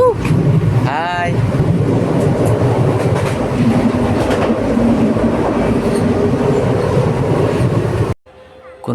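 A passenger train runs along the rails on a journey through Assam, with loud continuous rumbling and rhythmic clatter of the carriages, a squeal near the start, and voices heard over the noise before it cuts off abruptly.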